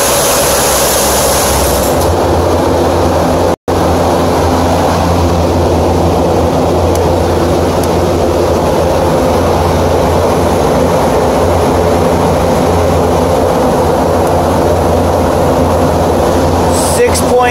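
Big HVAC heater motors run with a loud, steady drone and hum throughout, briefly cut once, while people talk over the noise.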